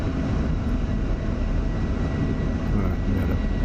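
Steady, loud broadband roar of an F-16 Viper jet engine in the DCS flight simulator, holding a continuous rumble throughout as the throttle is eased back during a carrier landing approach.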